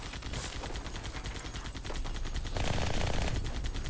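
Heavy automatic gunfire from a large weapon in the video game Halo 2, a dense continuous rapid stream of shots that grows louder and heavier partway through, with no talking.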